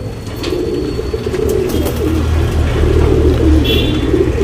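Tournament racing pigeons coo in low, repeated throaty murmurs close by, a steady rolling drone lasting throughout with faint background noise.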